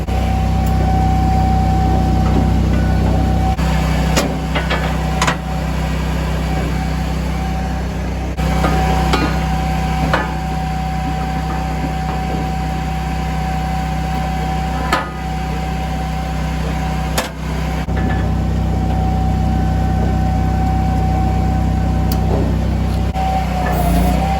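A Japa 365 Pro firewood processor with a 4-way splitting knife runs steadily and loud, its hydraulic drone broken by sharp knocks and thuds as logs are split.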